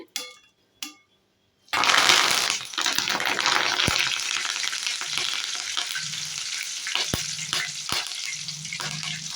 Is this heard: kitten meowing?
no